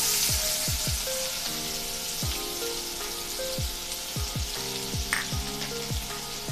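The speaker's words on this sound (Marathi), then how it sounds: "यामध्ये बारीक चिरलेला कांदा टाकून घेऊया।" Finely chopped onion hits hot oil and sizzles in a pan for sevai upma, with a steady crackling hiss and repeated sharp pops and spatters throughout, loud and close with no talking.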